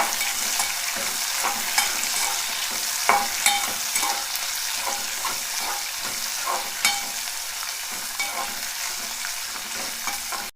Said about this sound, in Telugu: ఇప్పుడు ఉల్లిపాయలు వేసుకుందాం. ఇవన్నీ వేసుకొని మంచిగా